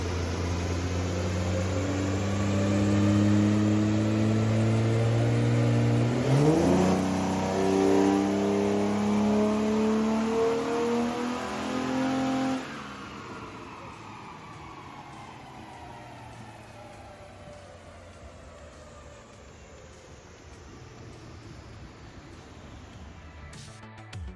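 A Hemi 6 engine with new valve springs and an air box runs on a dyno, holding a loud steady drone with a rising rev sweep midway, then dropping to a quieter settling hum.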